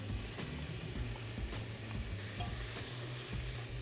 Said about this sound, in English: So everything's gonna go in while the beef's still searing